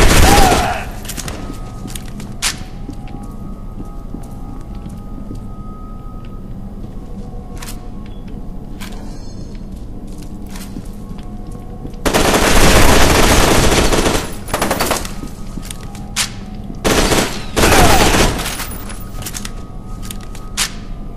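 Automatic gunfire in the video game F.E.A.R. 2, loud rapid bursts with two long sustained volleys and several shorter ones, interspersed with single shots and quieter game ambience, with someone speaking now and then.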